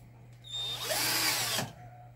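A power drill drives a screw in one short whirring burst of about a second, rising and steady, close by over a low constant hum.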